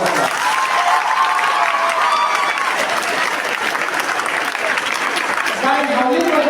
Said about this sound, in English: Very good, big round of applause.